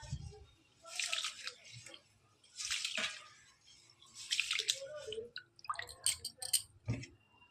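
Water poured into a bucket in a home with no running tap, in several splashing pours about a second apart followed by clinks and drips, close and moderately loud.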